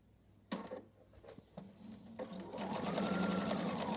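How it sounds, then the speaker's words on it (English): A sewing machine stitching fabric starts after a few clicks and knocks, then runs in a rapid, steady whirring hum that builds and holds at close range. "presser foot down, walk to or sew to that next corner"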